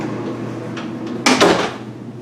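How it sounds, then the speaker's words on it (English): A 2022 Speed Queen C Series washing machine door is pushed shut, giving a short pair of thuds and a latch click over a low steady room hum. "and if you shut the door"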